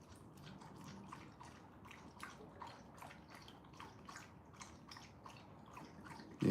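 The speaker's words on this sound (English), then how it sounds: "You hear Hana getting a good drink of water out there." A pet named Hana lapping water outdoors, a faint, quick run of wet slurping laps in a steady rhythm, heard from a little distance in a quiet room.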